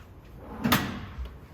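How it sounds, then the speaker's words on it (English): A large storage drawer with Boston Whaler hardware on a 2022 Boston Whaler 280 Dauntless boat slams shut with a single sharp close, then a faint softer knock follows. "So you got these big drawers. Again, Whaler hardware, slams nice and tight in there."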